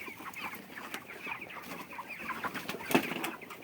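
Broiler chickens with colds crowd a shed, a dense chorus of clucks and rough wheezy calls running steadily throughout, with one louder squawk standing out near the end.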